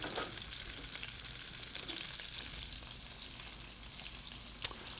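Food sizzles in oil pooled on one side of an uneven pan, a steady, fairly quiet crackling hiss with one sharp pop near the end.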